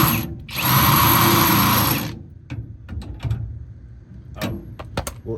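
A ratchet is worked in quick bursts to tighten clamps for lowering a 2002 Silverado truck, giving a loud buzzing ratchet run followed by scattered sharp clicks and clinks close by.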